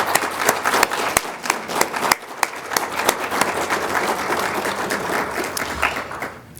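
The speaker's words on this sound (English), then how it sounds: "let's give these students a round of applause" An audience claps steadily for students at a community scholarship ceremony, a loud even wash of many hands with sharp individual claps standing out, no talking over it.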